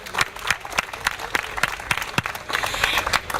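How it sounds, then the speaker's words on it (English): Outdoors at an anti-violence awareness walk, a crowd applauds the sponsors with loose, fairly close clapping in which individual hand claps stand out, swelling into denser applause toward the end. "A round of applause for them."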